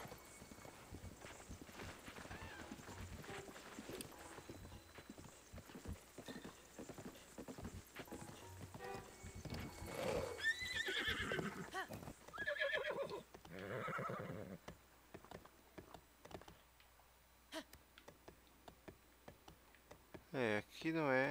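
Horse neighing and hooves clip-clopping at a stable in the video game Zelda: Breath of the Wild, steady hoofbeats followed by several loud whinnies, with game sound and speech over it.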